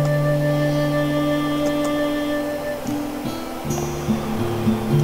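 Steady rushing river water from the RPGMaker video game Aleph, a continuous broad hiss running beneath sustained tonal game music that shifts notes near the end.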